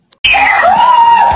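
One loud, close scream bursts in suddenly after a brief silence and holds steady, high and piercing, for about a second.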